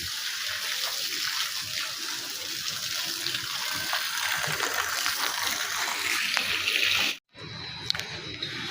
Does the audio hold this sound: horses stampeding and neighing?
no